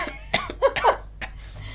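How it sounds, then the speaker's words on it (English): A man coughs several times in short bursts during a podcast recording, close to the microphone, with brief gaps between the coughs and no speech. "I had to cough."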